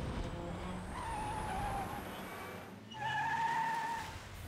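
A bus brakes hard on an elevated expressway, two long tonal tire squeals and brake screeches over a steady road rumble, the second louder, with no talking.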